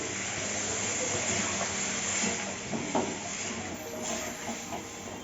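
Cucumber and prawn curry with potato simmering in a pan after water is added, giving a steady close hiss and soft bubbling throughout with no speech.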